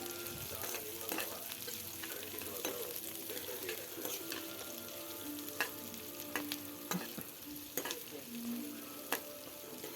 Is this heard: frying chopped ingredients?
yes